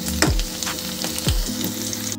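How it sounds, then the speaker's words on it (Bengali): Potato pieces frying in hot oil in a pan, a continuous soft sizzle with two low thumping knocks and scrapes as the pieces are moved. "দেখো বন্ধুরা আলুটাও ভালো করে ফ্রাই করা হয়ে গেছে"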